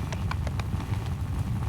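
Cavalry horses' hooves pound in Mount & Blade II: Bannerlord, a dense, steady clatter of many hoofbeats rumbling close and continuous, with sharper individual clops breaking through the mass.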